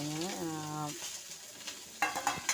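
Ingredients for biryani being sautéed in a pan, with soft sizzling and a few scraping stir strokes toward the end, heard after a short stretch of voice.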